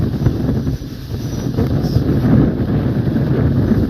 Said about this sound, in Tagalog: So ito na ho ang sitwasyon ng dagat ngayon.